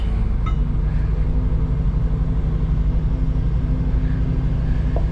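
A farm vehicle on an Eastern Kansas corn harvest reversing after the clutch is let out, its engine a steady, loud, low rumble throughout with no talk.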